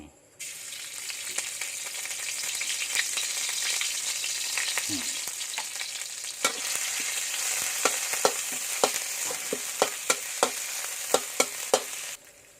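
Curry paste sizzles and fries in hot oil in a wok with small freshwater snails, a steady loud crackle broken by sharp clinks and scrapes of a stirring utensil.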